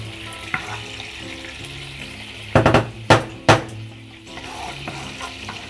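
Water poured into a pan of frying bean sprouts and garlic, a steady sizzle under a few sharp clanks and scrapes of stirring midway, close and clear, no voices.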